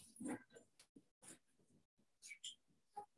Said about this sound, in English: we have a dog in the room.